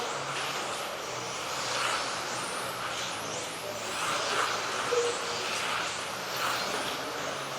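Modified RC touring cars race down the back straight of a track in a 1up Cup Series main event, their electric motors forming a continuous high, buzzing whine that rises and falls slightly as the pack passes.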